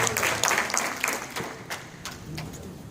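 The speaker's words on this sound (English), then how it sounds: "By a round of applause?" A church congregation at a live gospel fest claps in a short, scattered burst that thins out, with a few voices calling out in the background.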